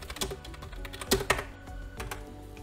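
Code is typed on a computer keyboard: a quick burst of close, crisp keystrokes with uneven rhythm and a few louder presses, heard alone.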